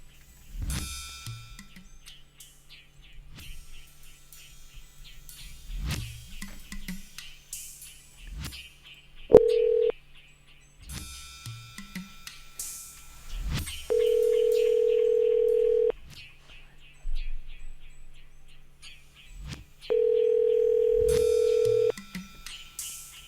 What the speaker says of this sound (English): All right, we're gonna dial.